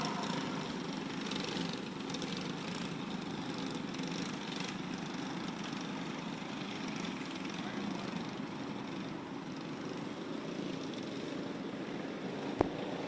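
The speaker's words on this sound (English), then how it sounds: "So once again, the karts are back underway." Racing karts in a rookie gas feature at Forks Karting Speedway drone steadily in the distance as a continuous engine hum, with a commentator talking over it.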